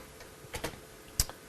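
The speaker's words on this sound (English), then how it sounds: "if I click on that and start typing" Light keystrokes on a computer keyboard while entering chart labels in Excel, a few scattered soft clicks with one sharper tap near the end, over faint background hiss.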